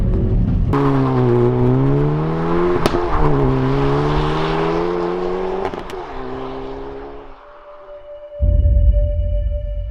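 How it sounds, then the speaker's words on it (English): A Hyundai i30N hot hatch revs with a strong droning engine note that rises and falls, broken by a few sharp exhaust cracks. The note then fades to a thin whine before a loud, rumbling burst at the end. "You get pops and cracks coming out the back."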